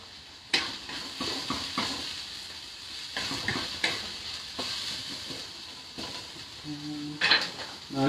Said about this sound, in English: Now I'm gonna add in the garlic to that also.